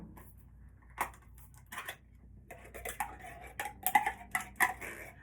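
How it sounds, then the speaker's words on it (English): Two cans of cream of mushroom soup emptied into the bottom of a slow cooker, with faint clinks and scrapes of metal and a spoon that grow busier and louder toward the end, in a quiet kitchen. "Now to the bottom of my slow cooker, I'm going to add 2 cans of cream of mushroom soup."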